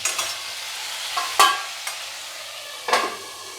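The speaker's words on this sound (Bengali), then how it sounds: "মিডিয়াম ফ্লেমে মোটামুটি 5 মিনিট একটু ঢাকা দিয়ে ভাজবো এটাকে" Steady sizzling of potatoes frying in a covered pan over a medium flame, with a few scraping stirs breaking through the hiss; close and moderately loud.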